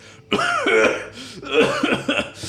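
A voice imitates a large, grating cough, a rough throaty burst followed by a second strained, rasping fit, close and fairly loud with no other sound around it.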